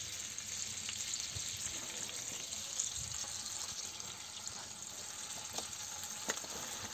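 Chicken tabaka fries on a saj over a medium campfire under a lid and heavy press weight, giving a faint, steady sizzle and crackle with occasional pops and no talking.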